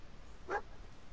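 Dog companion in the video game Fallout 4 giving a single short bark, moderately close, against a quiet ambient background.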